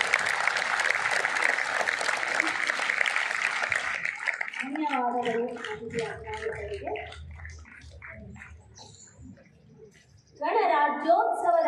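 Applause from the crowd at a school Republic Day celebration, a dense burst of clapping for the first four seconds that fades into a child's speech, with the clapping returning near the end.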